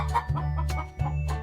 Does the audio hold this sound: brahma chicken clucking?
yes